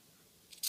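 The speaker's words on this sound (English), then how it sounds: "you are actually cutting both layers, the shirt fabric and the bias strip, when you're making cuts" Scissors snip through shirt fabric and a bias strip together, two short faint close cuts at the end of a near-silent moment.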